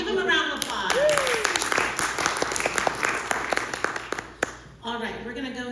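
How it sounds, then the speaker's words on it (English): Audience applause fills a District 5 candidate forum in Seattle: a steady, dense wash of many hands clapping that carries for several seconds before tapering off, with a voice speaking over it near the start. "Give them a round of applause."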